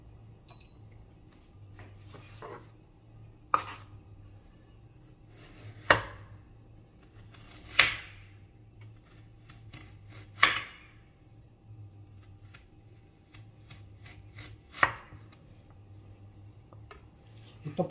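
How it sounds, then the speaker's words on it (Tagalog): Potatoes being peeled in a home kitchen, with occasional sharp knife taps and scrapes against a low steady hum, spaced irregularly a few seconds apart, close and moderately loud. "Nagtatalop tayo ng patata"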